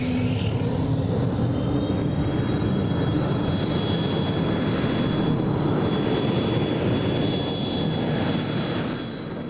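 Pulling tractor powered by a Turbomeca turbine engine from a French helicopter at a tractor pulling championship in Herning, a loud sustained turbine roar with a high steady whine over broad rumble, continuous throughout.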